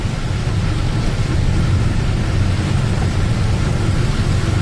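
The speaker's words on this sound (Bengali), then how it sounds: "দেখতে পাচ্ছ প্রচুর ঝড় বৃষ্টি হচ্ছে।" Heavy storm rain pours steadily over a slow-moving car in low gear, a dense continuous roar of rain and road rumble that stays loud and even throughout with no talking.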